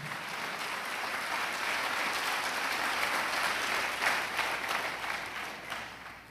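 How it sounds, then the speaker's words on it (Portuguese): A church congregation at a cathedral service applauds steadily, a dense, sustained wash of many hands clapping at moderate distance, with no voices standing out. "Você pode aplaudir a Jesus,"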